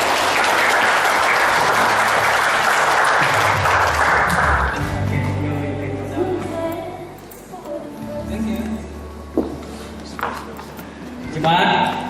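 A congregation at a church wedding breaks into loud, sustained applause that fades after about five seconds, followed by quieter room sounds and a few knocks.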